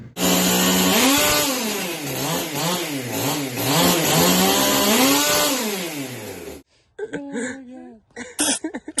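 A loud, high-revving MS460 chainsaw engine running on nitrous, wailing and surging in pitch for several seconds, then cutting off into sputtering, popping bursts.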